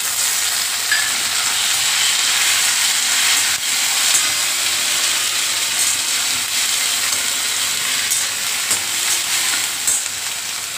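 Tomatoes added to hot oil with onions and whole spices sizzle and hiss steadily in a pan, a close and continuous frying sound with occasional stirring and no talk.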